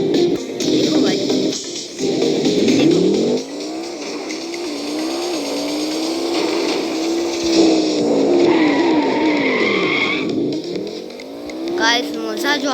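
Lamborghini engine in the Extreme Car Driving video game, loud and close, rising and falling in pitch as it revs and accelerates, with tire squeals and skidding, under steady talking.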